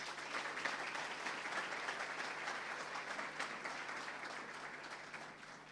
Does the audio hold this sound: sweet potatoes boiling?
no